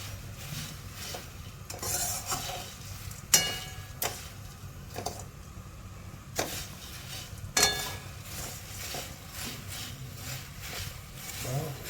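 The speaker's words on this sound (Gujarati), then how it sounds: "બિલકુલ ધીમા તાપે અમે મમરાને હલાવીશું બરાબર" Quiet scraping and tapping of a spoon stirring tempered puffed rice (mamra) with peanuts and curry leaves in a pan over low heat, with soft sizzling underneath and a few sharper clinks against the metal.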